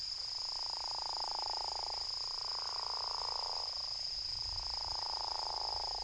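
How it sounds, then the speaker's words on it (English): A Mississippi gopher frog croaks in three long, snore-like rasping calls separated by brief pauses, heard over a steady high insect chorus in a quiet outdoor setting. "It was the croak of what was then called the Mississippi gopher frog"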